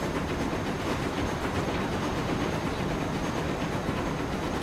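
Diesel train in the Transport Fever game on the Pennsylvania Mainline route, a steady broadband rumble and rattle of a running train that holds an even loudness throughout, with no voices.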